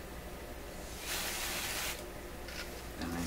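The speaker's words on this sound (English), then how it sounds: "there's coils and all kinds of stuff in here that I'm spraying on" A spray can hisses cleaner onto coils inside an Electrohome Chippendale console TV chassis, one steady close burst lasting under a second, then shorter faint sprays afterward.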